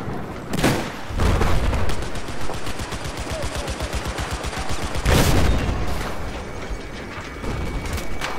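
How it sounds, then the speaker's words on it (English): Automatic gunfire in Battlefield 4 during a Siege of Shanghai Rush match, rapid rhythmic bursts of shots with loud sharp blasts at intervals and mechanical clatter between them. "There's an MRAP just trying to fire into the garage from the south side."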